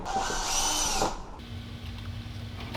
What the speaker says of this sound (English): Drill out the jig.